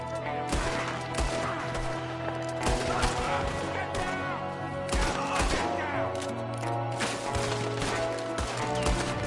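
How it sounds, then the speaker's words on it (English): Gunfire from a window in a Red Dead Redemption 2 shootout: repeated sharp shots and rattling volleys over a steady background drone, with music-like tonal layers underneath throughout. "There's another one shooting from the window."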